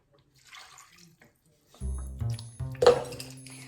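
Half and half pours into a pot of seafood chowder, a soft liquid splash and gurgle rising after a quiet start, with a faint voice earlier.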